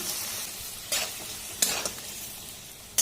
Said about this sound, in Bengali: জল দিচ্ছি মশলাটা কষানোর জন্য।